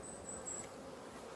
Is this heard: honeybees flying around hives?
yes